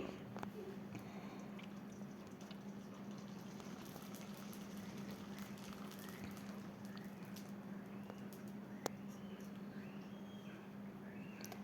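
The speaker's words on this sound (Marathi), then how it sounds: "बघा किती मस्तपैकी आपले इथं चिप्स तळून घेते मी" Sabudana chips frying in hot oil in a kadhai: a steady, even bubbling sizzle with small crackles and pops, holding constant throughout.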